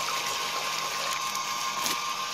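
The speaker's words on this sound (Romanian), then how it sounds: "Să pun apă în pietre." Water is poured over stones to rinse off sand and soil, a steady, close rushing hiss that runs unbroken throughout with no talk.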